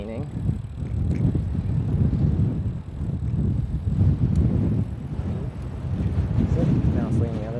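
Outdoors, gusting wind buffets the microphone with heavy, rumbling low roars that swell and ease in waves, loud and continuous throughout.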